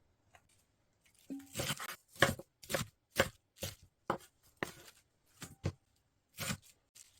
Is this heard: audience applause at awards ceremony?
no